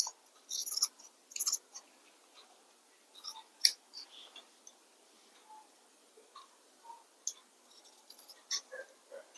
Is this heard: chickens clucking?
no